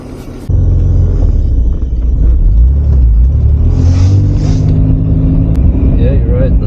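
Pontiac Fiero GT engine rumbling steadily from inside the car while driving, a loud continuous low drone after a brief quieter start, with occupants talking over it.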